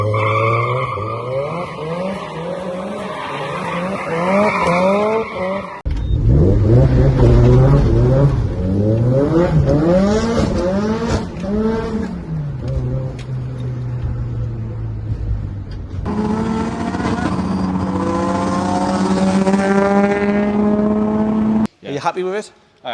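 A newly bought car's engine revs hard and wild with rising and falling pitch sweeps, loud and close, in a car import workshop setting, with people talking over parts of it.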